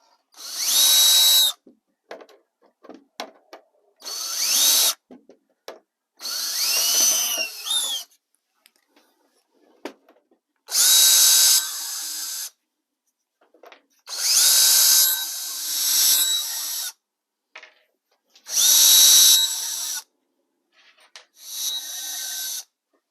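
A power drill backs drywall screws out of a model railroad layout's wooden framework, whining in about seven separate bursts of a second or two each, separated by quiet pauses with small handling clicks.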